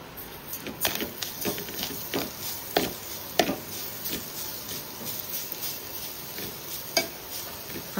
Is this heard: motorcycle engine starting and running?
no